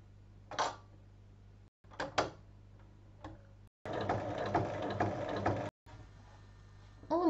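Sewing machine running in separate bursts as it stitches fabric lining for a tote bag, right sides together and pinned, with short whirring runs, a longer steady stretch near the end and pauses between, close and fairly quiet.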